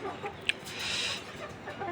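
Laying hens and a rooster in a poultry house setup, soft scattered clucks at close range over a steady background hiss, with one brief sharp sound.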